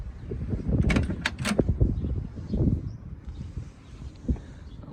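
A short mechanical clunk and rattle of a 1967 Chevrolet Chevelle SS door being opened, with a few sharp clicks and some handling noise nearby.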